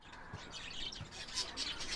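Birds chirp and tweet in aviary pens holding budgies, a busy, continuous chatter of small calls close by.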